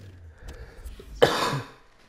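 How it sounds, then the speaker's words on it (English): A single sharp cough bursts out loud and close mid-session, trailing into a brief rough throat-clearing rasp against quiet room background, with a man playing FIFA 16. "Sorry, I had to cough there."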